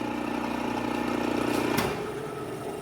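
A two-speed Dahlander electric motor runs with a steady mechanical hum and whine, holding an even pitch before the tone shifts slightly near the end.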